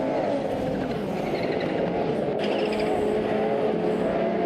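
Racing cars overtaking in a Formula 1 racing game, a steady loud blend of engine whine and passing cars with tire noise throughout, close and continuous.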